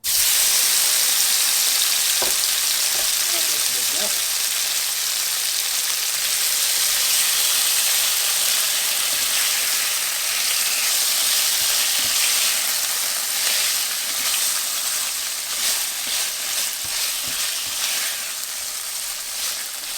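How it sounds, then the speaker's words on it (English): Tofu frying in canola oil in a pan for moo shu, a steady broadband sizzle with faint crackles and occasional light scrapes, continuous and close with no talking. "Then we're going to add in the tofu that I drained, or the meat, depending on what you're using."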